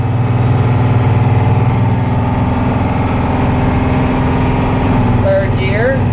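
A Blue Bird bus engine drones steadily in second gear while driving, a loud continuous low rumble close by with a brief chirping sound near the end.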